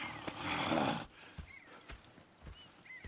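Horses in Red Dead Redemption 2, with a loud burst of hoof clatter and snorting in the first second, then quieter hoof thuds and faint whinnies against a soft outdoor background.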